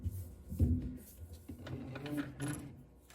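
A sewing machine runs a short burst stitching an armhole seam on a tie top, a low mechanical whir that swells early and then continues more softly with light handling noise.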